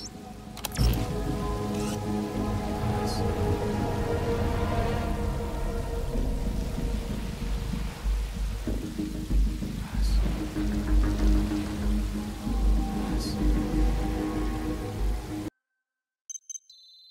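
Steady rain pours down in the stealth video game Metal Gear Solid V: Ground Zeroes, a dense, even hiss with low rumbling underneath and a few faint sharp tones, cutting out abruptly near the end.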